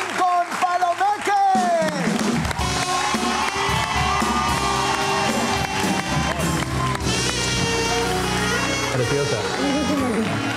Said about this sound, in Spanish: Este aplauso es para darle la bienvenida a Lincoln Palomeque.